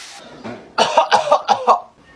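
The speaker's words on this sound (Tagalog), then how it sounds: "Inuubo ka ba? Opo, inuubo po ako." A short burst of five quick coughs in a row, close and fairly loud, after a brief moment of faint background sound.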